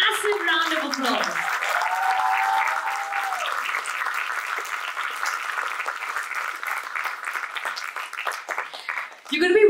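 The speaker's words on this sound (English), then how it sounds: "can we hear a massive round of applause?" Crowd applause at a school drama festival, a sustained wash of clapping heard under a speaking voice, with a brief louder swell at the end.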